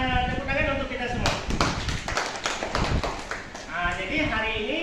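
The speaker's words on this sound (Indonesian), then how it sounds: "tepuk tangan untuk kita semua" A room of adults breaks into a short round of scattered hand clapping, mixed with overlapping voices talking before and after.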